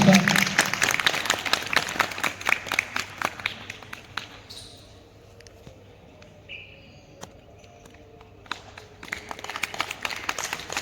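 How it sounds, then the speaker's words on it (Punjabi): A group claps hands together during a yoga session, loud dense clapping at first, then a quieter stretch of scattered claps, before the clapping swells again toward the end. "ਤਾਲੀਆਂ ਨਾਲ ਤਾਲੀਆਂ ਵੀ ਇੱਕ ਬਹੁਤ ਵਧੀਆ ਐਕਸਰਸਾਈਜ਼ ਹੈ"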